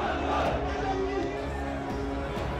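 Large protest crowd gathered at a city square chowk in Bannu district, a continuous dense murmur of many voices filling the space at steady volume.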